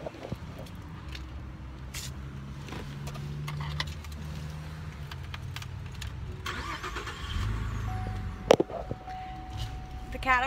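A 2007 Cadillac CTS is started nearby: a jangle of keys and faint clicks lead into a brief crank, and the engine catches into a low idle, with a voice speaking briefly.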